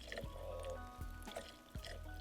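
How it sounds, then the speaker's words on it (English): Liquid is poured into a cup in a quiet room, giving a soft gurgling trickle broken by a few sharp drips and small knocks, all faint and close. "Oh, hear that pouring?"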